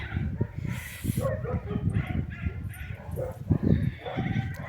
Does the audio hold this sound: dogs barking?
yes